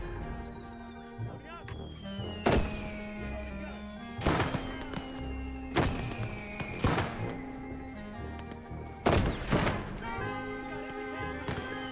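A 60mm mortar and gunfire in the Gates of Hell war game: four or five heavy, booming blasts spaced a couple of seconds apart, loud and close, over a steady bed of battlefield noise and tonal hum.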